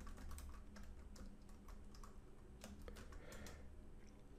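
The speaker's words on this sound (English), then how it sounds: "Type in the good old Docker compose up." Someone types a Docker compose command on a computer keyboard, a quiet, fairly fast run of key taps with a few louder strokes near the middle, heard close with no speech.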